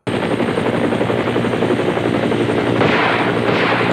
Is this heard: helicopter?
yes